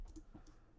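Keys tapped on a computer keyboard during a live question-and-answer stream, a few quiet clicks in less than a second with no talk.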